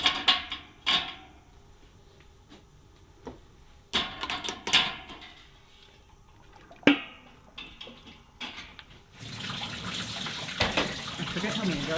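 Cucumbers being rinsed in a kitchen sink: scattered clunks and splashes come first, then tap water runs steadily near the end.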